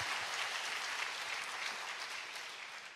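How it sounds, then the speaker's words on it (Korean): Congregation applauding during a church service, a continuous, fairly soft wash of many hands clapping for three seconds with no speech over it. "Why don't we give a big hand of applause to the Lord Jesus Christ?"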